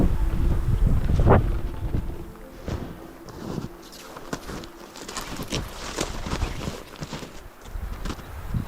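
Gusty wind buffets the microphone on a winter lake beside thick boreal forest, rising and falling, with crunching footsteps over the rumble.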